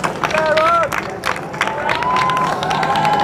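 Labour Party workers applauding and cheering at party headquarters on UK general election night 2010, a crowd of clapping hands and raised voices with whistles, busy and fairly loud throughout.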